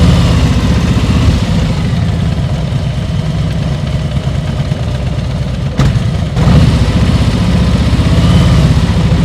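A motorcycle engine is held at low, steady revs during slow-speed riding practice, a loud, close, continuous throb with a brief dip and surge partway through.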